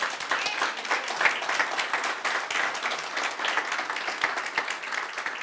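A church congregation breaks into sustained applause during a Spanish-language sermon, dense clapping from many hands filling the room at a steady level throughout.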